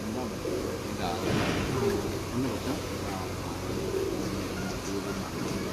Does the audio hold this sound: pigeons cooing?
yes